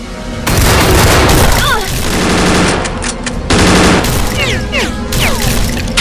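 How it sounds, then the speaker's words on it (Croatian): Rapid gunfire bursts and booming shots in a Stikbot stop-motion animation firefight, loud and dense across the scene, with short whizzing effects and brief shouted voices mixed in. "Pravo je, samo pucajte, dečki."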